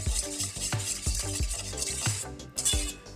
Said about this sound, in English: We're gonna whisk it together until it's combined.